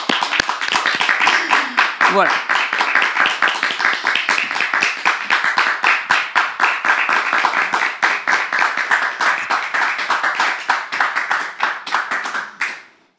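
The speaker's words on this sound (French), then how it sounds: "On les reçoit, avec vos applaudissements." Studio audience on a French talk show set applauds to welcome the day's guests, a dense steady clapping that fills the whole stretch, with a voice speaking briefly over it near the start.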